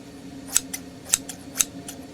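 Three crisp, close snips of kitchen shears, evenly spaced about half a second apart, each with a sharp metallic bite and a softer follow-up click from the blades, over a quiet room hum.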